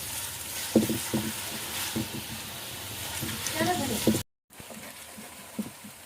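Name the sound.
onions frying until light brown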